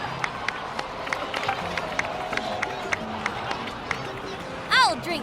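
Crowd applause in the video game Genshin Impact, a steady patter of clapping and cheering under background chatter, with a brief tonal chime near the end.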